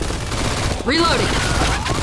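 Video game gunfire: a loud, continuous barrage of overlapping shots filling the scene, with a voice shouting over it partway through.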